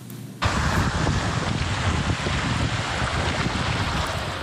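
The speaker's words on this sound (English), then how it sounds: "Members of Rapid, a Regina recreational paddling club, took to Wascana Creek yesterday, experiencing some rare whitewater conditions." Paddlers on rain-swollen whitewater at Wascana Creek in Regina: after a brief quiet start, a loud, constant roar of rushing water and wind buffeting the microphone fills the rest.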